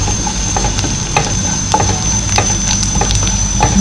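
Sliced onion and curry leaves sautéing in a pan, a close and continuous sizzle with soft, regular taps from stirring throughout.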